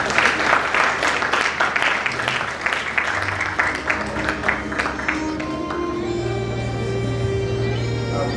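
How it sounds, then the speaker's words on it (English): An audience at a book launch event claps loudly for several seconds, the applause thinning out and fading while a sustained tonal hum rises beneath it. "let's give a round of applause, please."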